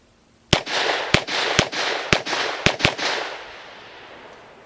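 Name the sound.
Grand Power Stribog 9mm pistol shots being fired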